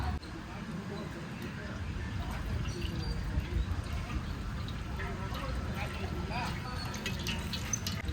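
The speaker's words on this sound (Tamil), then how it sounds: "ஒன்றரை லிட்டர் கடலை எண்ணெய் ஊற்றிக்கலாம்." Groundnut oil is poured into a big pot for a large mutton biryani, giving a soft, steady liquid pouring sound with faint drips, fairly quiet beneath light background noise.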